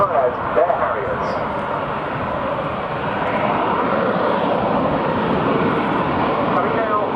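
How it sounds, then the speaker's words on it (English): A Sea Harrier jump jet hovers at the RNAS Yeovilton air show, its loud, steady jet roar filling the air without a break. "Coming now into the hover, we'll see the Harrier performing a natural transition."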